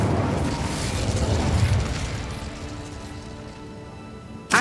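Incendio fire spell cast in Hogwarts Legacy, a loud whooshing, crackling burst of flame that roars for a couple of seconds then fades into a lower rumble, ending with a sharp new hit.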